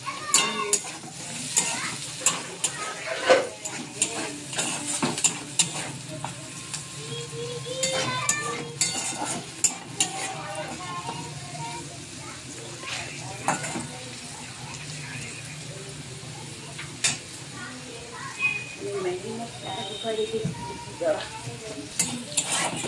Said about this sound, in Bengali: বরবটি ভাজা হয়ে গেছে।